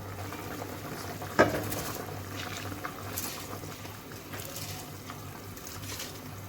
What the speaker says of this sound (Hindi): अब यहाँ पे जो पानी है ये बॉयल हो रहा है।